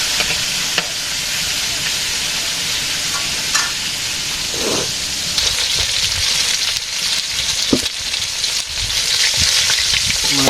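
Food fries in a pan over an outdoor village fire, giving a loud, steady sizzle with occasional scrapes and knocks from stirring.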